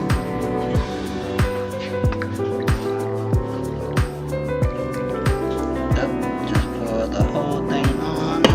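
Vietnamese coffee drips through a metal phin filter, each drop landing as a sharp, close plink that repeats at an even pace over a quiet background hum.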